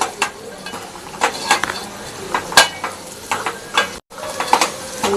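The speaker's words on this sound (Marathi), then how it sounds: "मसाला असा थोडा एक ते दोन मिनटं व्यवस्थित आपण याला भाजून घेऊया" Peas are roasted with masala in a pan, with a low frying sizzle broken by repeated scraping and clinking stirs of a utensil against the pan, close and without talk.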